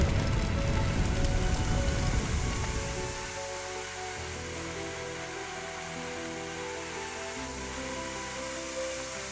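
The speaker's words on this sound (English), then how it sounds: "Spray water by using the indicated button." A fire hose sprays water in a firefighting video game: a loud, steady hiss of spray that starts out rough and broad, then settles into a smoother, quieter rush over a low hum, continuing unbroken with no voices.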